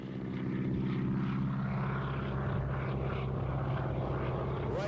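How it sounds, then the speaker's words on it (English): A former military trainer airplane with a 450 horsepower Pratt & Whitney radial engine at an east Hartford air show in 1986, its loud steady propeller drone filling the air continuously, alone without talk. "with that big 450 horsepower Pratt & Whitney engine really fills the bill."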